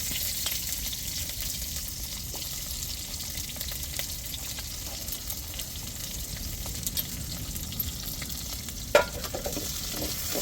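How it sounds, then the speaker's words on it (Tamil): Onions sizzle steadily in a hot pan with curry leaves, cooked down for a chicken curry before tomatoes go in. A continuous close frying hiss runs throughout, with occasional soft stirring knocks and one sharper tap near the end. "இப்போ வெங்காயம் நல்லா வதங்கட்டும் வதங்கையும் நம்ம தக்காளியை சேர்த்துக்கிடுவோம்"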